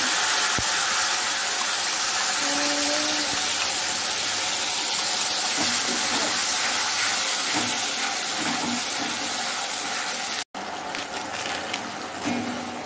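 Cumin, dried chilli and bay leaf temper in hot oil for a Bengali home-cooked dish, a steady close hissing sizzle that runs continuously, broken by a brief dropout near the end.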